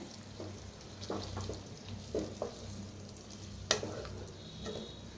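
Brinjal curry being stirred and mixed in a pan, soft scraping strokes and a low simmering sizzle in short bursts, with one sharper clink near the end.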